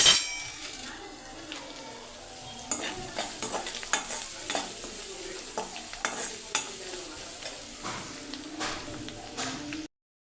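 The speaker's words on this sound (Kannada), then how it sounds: "ಎರಡು ಹಾಕೊಂಡು ಚೆನ್ನಾಗಿ ಎಣ್ಣೆಯಲ್ಲಿ ಬಾರಿಸ್ಕೊಳ್ಬೇಕು" Okra-sambar spices with a pinch of turmeric frying in oil, a soft continuous sizzle under repeated stirring scrapes and light clinks of a spoon against the pan, close and fairly quiet.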